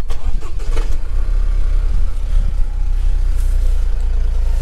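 A Toyota GR Yaris engine turns over and catches, then settles into a loud, steady rumble close by.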